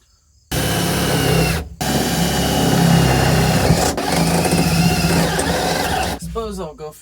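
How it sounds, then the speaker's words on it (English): A power drill boring pilot holes to mount a part on an E30 drift car build, running in steady sustained bursts with a brief pause midway, then stopping as a voice begins to speak at the end. "let's get some pilot holes drilled in and get this thing mounted"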